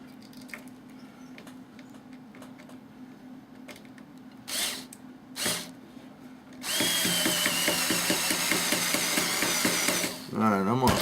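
A power drill drives screws into a model plane, first with soft handling noises and short bursts, then a loud sustained whirring run that stops before a final brief grind.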